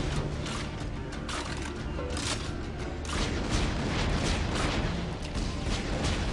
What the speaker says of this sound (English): And the explosion gets bigger and bigger